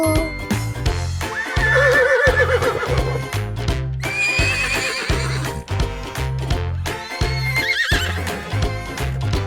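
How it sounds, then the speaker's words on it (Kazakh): A horse whinnies repeatedly over a steady rhythmic backing, several loud neighs spread across the stretch, as heard in a children's farm-animal sounds lesson. "Жылқы и-го-го дейді"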